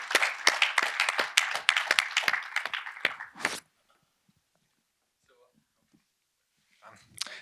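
Audience applause for distinguished guests at the close of an academic talk, a lively round of clapping with distinct individual claps that lasts about three and a half seconds and then stops into near silence.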